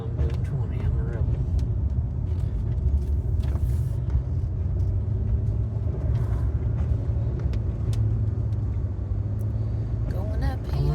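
Car climbing a curvy mountain road through Pine Mountain State Park in Eastern Kentucky at around 20 mph on a foggy morning; steady engine and road rumble fills the interior continuously, with faint talk in the cabin.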